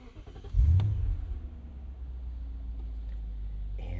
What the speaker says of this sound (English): It comes to life, the M62. Very quiet, very reserved engine.